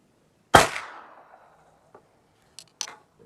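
A Thompson Contender firing .44 SST bullets with a suppressor fitted gives one sharp, loud shot with a short decaying tail, followed by a few faint clicks and handling noises, with no talking.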